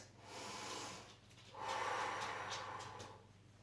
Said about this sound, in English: 2 big breaths.